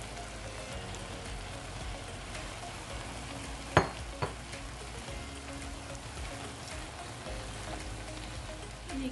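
Corn kernels frying in a pan while making rajas con calabazas y crema: a steady, close sizzle throughout, with two sharp knocks in the middle as the pan is stirred.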